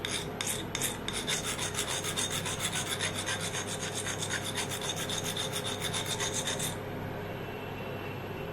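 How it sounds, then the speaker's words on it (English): A blender blade is sharpened with a stone or file, a fast, even run of close rasping strokes that continues for several seconds before stopping abruptly, leaving a quiet background hum. "Using a sharpening stone like this or any file or something, some sharpening equipment, you clean it and then try to sharpen it up like this"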